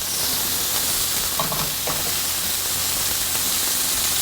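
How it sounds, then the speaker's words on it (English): Greek turkey burgers frying in a pan just after flipping, a steady loud hiss of sizzling fat throughout with a couple of brief clatters from the spatula. "We're gonna flip them right now."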